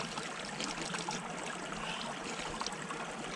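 A mountain stream in Idukki trickles steadily, a soft, even wash of running water heard alone and fairly faint.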